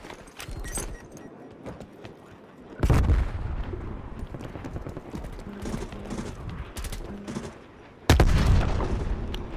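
Shotgun blasts in the video game Black Ops Cold War, two heavy bursts standing out above a busy, noisy game mix with smaller clattering impacts between them.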